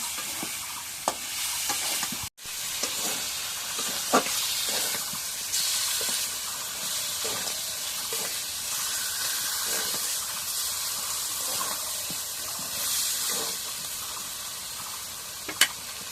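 Pangas fish with spices frying in hot oil, a steady close-up sizzle and hiss that runs throughout, broken by occasional stirring clinks and one sharp knock.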